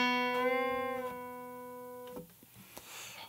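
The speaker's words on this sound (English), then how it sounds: "that would mean you release the bend and bring it back down to its normal note all in one pick" A picked guitar note sounds with its pitch bent up, then drops back down to the starting note and fades, followed by faint noises.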